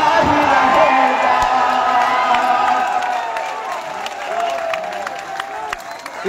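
A large crowd at a political rally in Bengal claps and cheers loudly, with shouts and whoops rising over the applause, which slowly thins toward the end.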